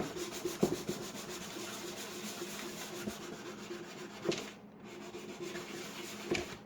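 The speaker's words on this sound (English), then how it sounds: "So we're just going to scrape some of this off so that it attaches to the pan a lot easier." Old paint is scraped off a thrift store item with steady, close rasping strokes. A few sharper scrapes stand out over several seconds, and there is no talking.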